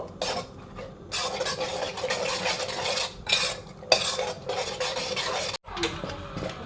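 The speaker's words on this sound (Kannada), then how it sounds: "ರುಬ್ಬಿದಂಥ ಮಸಾಲವನ್ನು ಈಗ ಹಾಕೊಳ್ತಾ ಇದ್ದೀನಿ" Ground masala going into a pot of pea sambar and stirred with a metal spoon, steady scraping and clinking against the pan in near continuous bursts, with no talking.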